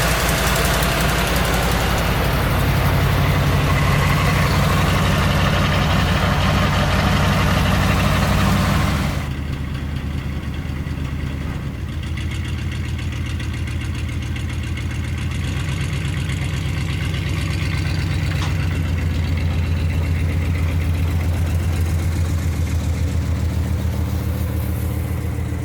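A 1972 Corvette engine idles steadily on a cold day, a loud low rumble running throughout, with a brief shift in tone partway through as the idle settles slightly quieter.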